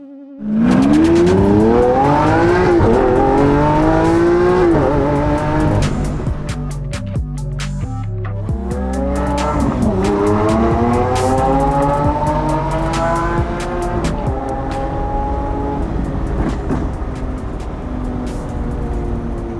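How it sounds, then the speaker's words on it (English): A Lamborghini Aventador S with its stock exhaust revs hard and climbs repeatedly, rising and falling in pitch through gear changes, loud and close, with no voices. "The stock exhaust sound is pretty good though."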